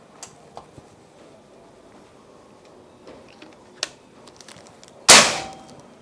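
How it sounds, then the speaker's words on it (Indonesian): A single sharp shot from a PCP air rifle, a Mauser or Marauder OD 38 under a chronograph velocity test, cracks loudly near the end after a few faint ticks and taps in a quiet room. "Kita coba tembakan yang kedua"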